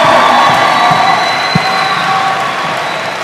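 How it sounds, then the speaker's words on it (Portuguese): Loud crowd clapping and cheering at a church youth devotional service, greeting a visitor, with a steady wash of noise and some voices rising above it throughout. "Dá uma salva de palmas pro visitante"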